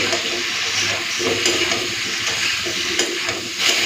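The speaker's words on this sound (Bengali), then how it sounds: "এরপরে ভালো করে ভেজে নিই সবজিগুলো" Chopped potato, eggplant and pumpkin with chili powder and spices frying in a pan, giving a steady, close sizzle with a few soft stirring scrapes and no voices.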